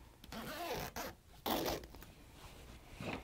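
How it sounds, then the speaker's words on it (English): A zipper being pulled closed on a fabric Dresden-style bag in several short, rasping strokes, with brief pauses and handling rustles between pulls, close and fairly quiet. "once you get it turned right side out, you can zip the zipper closed"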